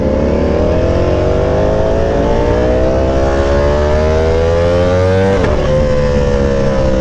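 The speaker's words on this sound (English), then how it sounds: "Bike is rowdy." A Ducati Panigale V4R motorcycle engine revs loud and close, its pitch sweeping steadily upward through a long, continuous high-rpm roar before a brief dip and recovery, with no talk over it.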